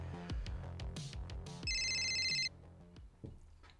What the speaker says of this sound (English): Oh, getting a phone call here.